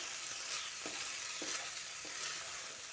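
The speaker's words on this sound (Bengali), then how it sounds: "হাতে মাখা চালটা দিয়ে ভালো করে কষিয়ে নিচ্ছি" Hand-mixed rice sautéing in a pan over a low flame for veg pulao, giving a steady close sizzle with a few soft scraping strokes of stirring throughout.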